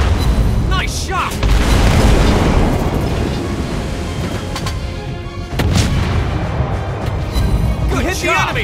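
Heavy naval guns from an Italian battleship, the Conte di Cavour, boom in a World of Warships Blitz mobile battle, loud and dense with rumbling blasts and a renewed burst midway, overlaid by game voice callouts.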